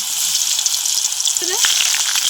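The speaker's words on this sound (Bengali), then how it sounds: "তো ফুলকপিগুলো ভেজে নেবো" Cauliflower pieces frying in oil in a wok, giving a continuous, close, bright sizzle that holds steady throughout, with one brief faint chirp partway through.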